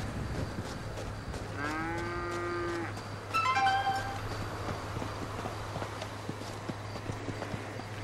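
A cow in Grand Theft Auto V gives a long low moo followed by a shorter second call, moderately near, over steady game ambience and scattered hoof-like clops.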